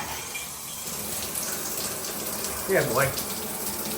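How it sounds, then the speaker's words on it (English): Hotel shower running at decent pressure in a La Quinta Inn & Suites bathroom near Norfolk Airport, Virginia, a steady hiss of spraying water throughout with a brief spoken voice over it. "Water pressure's decent,"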